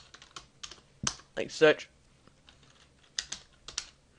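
A computer keyboard being typed on to enter a server command, with short bursts of key clicks and pauses between them, someone speaking briefly over part of it.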